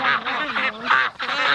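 Several ducks quack loudly and close by, a rapid run of harsh nasal calls overlapping with no pauses.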